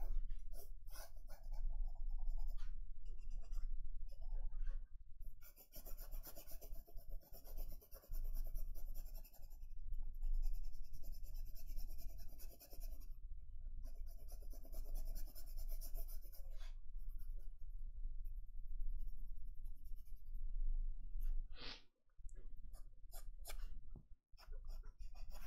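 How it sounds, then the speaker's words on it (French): A pencil redraws lines on paper during a drawing lesson of a child with a garland, a soft continuous scratching and rubbing that runs nearly unbroken, close and quiet, with brief pauses near the end. "je vais venir redessiner ce que j'avais en dessous"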